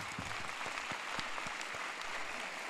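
An audience applauds during a ceremony speech, producing a steady, fairly faint patter of many hands clapping that holds evenly with no voices over it.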